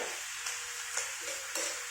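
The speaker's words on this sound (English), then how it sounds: "And we're just going to get that sizzling away." Thai green curry paste and chicken sizzle in a pan with a soft, steady hiss and a few light taps of stirring, faint and continuous with no voices.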